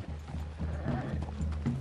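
Horse hooves clip-clop with a short whinny in Red Dead Redemption 2, a busy mix of rhythmic hoofbeats and ambient game sound, close and moderately loud throughout.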